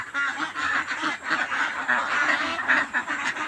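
Farm-raised ducks quack steadily and loudly up close, a dense overlapping chorus of nasal calls with no pauses.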